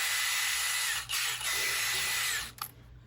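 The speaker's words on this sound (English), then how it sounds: "I'm gonna, as straight as I can, I'm gonna drill that in the bottom" A power drill with a 5/64 inch bit whines steadily and loudly while boring through a motor shaft and its housing. It briefly dips twice before stopping near the end.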